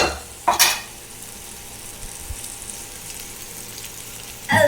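Amaranth leaves and onion frying in a pan, a steady soft sizzle running throughout, with two louder bursts of stirring or pan clatter near the start and end.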